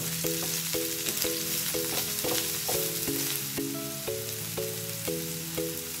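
Ginger, garlic and chili frying for a chicken liver fry, a constant sizzle broken by rhythmic metal spatula clicks against the pan, with tonal kitchen background, no speech.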